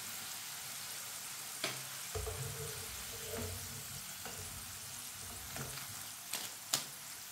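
Potato chips fry in a pan of oil with a steady, low sizzle, broken by a few sharp clatters and stirring knocks; no one speaks.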